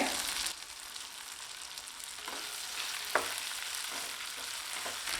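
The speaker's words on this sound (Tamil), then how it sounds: "கடைசியாக கற்பூரவல்லி இலை எடுத்து வச்சுருக்கிறத வதக்கிக்கலாங்க" Karpooravalli leaves and tomato sauté in a pan with a steady hiss of frying, broken by a few sharp clicks of stirring scattered across the clip; no voices.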